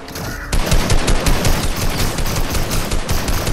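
Rapid automatic gunfire in the Fortnite video game, starting abruptly after a brief quiet lead-in and then running as loud, dense bursts of shots with almost no gaps.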